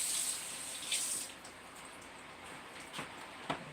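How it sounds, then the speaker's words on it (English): Water runs from a tap to wash something off for smoked birds, a steady hiss of flow that eases after the first second into a quieter trickle with a few splashy drips near the end. "Wash this one off right quick."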